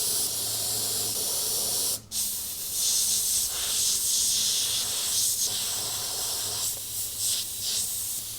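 An airbrush spraying paint for an evil clown design with green real fire, a continuous close hiss with a brief cut in the middle and small swells in pressure as the strokes change.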